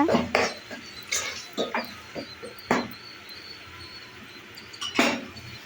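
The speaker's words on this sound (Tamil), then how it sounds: "இஞ்சி பூண்டு பேஸ்ட்டு பச்சை வாசனை போகிற வரைக்கும் நல்லா கிளறி விட்டுக்கோங்க" Ginger garlic paste is stirred in a pan for chicken curry, with irregular scrapes and metallic clinks of a spoon against the pan, some strokes louder than others, with quiet gaps between them.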